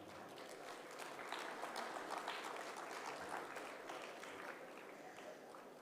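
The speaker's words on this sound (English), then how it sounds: "please join me in welcoming them all with a big round of applause as they take their" Faint, steady applause rises from a conference audience as dignitaries take their places on the dais at a wireless communications symposium, a soft continuous patter that swells slightly midway.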